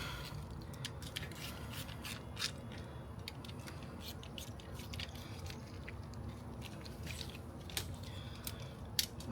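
Hand tools snugging the oil drain bolts on a Suzuki DR650 motorcycle during an oil change, giving close, quiet clicks and scraping ticks scattered over low background noise, with no talking.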